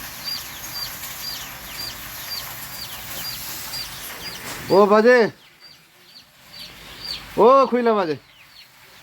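Chickens cluck around a village coop in rural Nepal, with small bird chirps running through the background while a person twice calls out loudly nearby.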